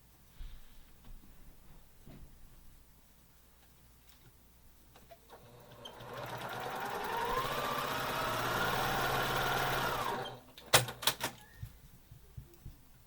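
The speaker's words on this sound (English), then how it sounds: "sew a scant 1/4 inch on either side of the line" A sewing machine stitching quilt pieces for half-square triangles, whirring steadily for several seconds after quiet handling noises, then stopping, followed by a few sharp clicks and taps.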